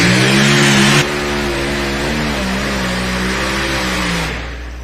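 A modified-class pulling tractor on a tractor-pull track, its engine revving loud and close with harmonic pitch rising and falling, then easing off near the end; no talking.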